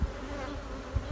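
Honeybees buzzing over an open beehive during a honey pull, a soft steady hum with low rumbling bumps near the end.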